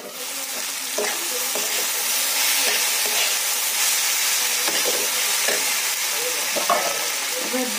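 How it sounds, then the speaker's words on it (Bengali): Fried peas are stirred in a hot pan with steady sizzling and scraping strokes from a spatula, each stroke a soft knock against the pan. The frying hiss stays close and continuous, and nobody speaks. "তো যাই এবার ঘুরিয়ে দিই, দেখুন আমার মটরশুঁটিটাও ভাজা হয়ে গেছে।"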